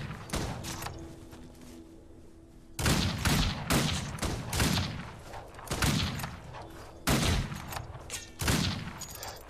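Gunfire in the Wild West Outlaw video game, bursts of sharp gunshots in rapid clusters separated by short pauses, loud and close, with a brief low mechanical tone between volleys.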